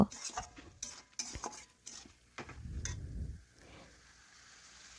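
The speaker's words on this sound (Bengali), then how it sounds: "এখন ভালোভাবে সমস্ত কিছু একসাথে বেশ কিছুক্ষণ নাড়াচাড়া করে একটু কষে নেব" Spiced chicken with potatoes being stirred and sautéed in a pan, a spoon scraping and clinking against the metal in irregular strokes over a faint sizzle, moderately close and quiet.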